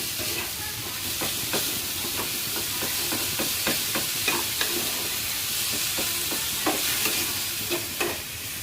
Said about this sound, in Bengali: এরপরে টমেটোগুলো ওর ভিতরে দিয়ে দিছি, দিয়ে হালকা একটু সরিষার তেল দিছি, একটু লবণ দিছি আর পেস্টটা দিছি,